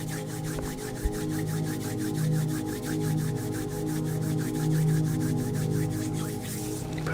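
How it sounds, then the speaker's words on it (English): Palms gently rubbing together during a guided morning meditation, a steady soft swishing friction that continues evenly for several seconds over a faint low hum, close and quiet. "Maybe bring those hands together in front of you and gently rub them together."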